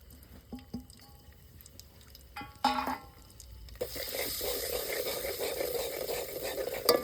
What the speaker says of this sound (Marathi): आता फोडणी द्यायची.